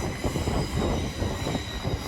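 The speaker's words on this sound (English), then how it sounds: "And this train is leaving." A Southern Class 377 Electrostar electric train pulls away near Waterloo East, giving a steady rumbling roar of wheels and traction with faint squeal. It is continuous, moderately loud and heard without talk.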